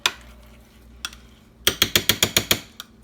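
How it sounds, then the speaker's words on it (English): A utensil beating eggs with mayonnaise in a bowl, one or two isolated clinks and then a quick regular run of about eight sharp taps, close and clear. "So you mix 2 eggs with the mayonnaise."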